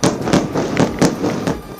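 Explosions from Israeli strikes on Hezbollah positions in Lebanon, a rapid series of sharp booming blasts about every quarter second, loud and dense, with no speech.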